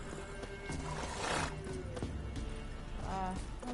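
Roach, the horse in Witcher 3, neighs and whinnies over steady clip-clopping hooves, fairly quiet in the game mix, with a few distinct neigh calls rising above the trotting.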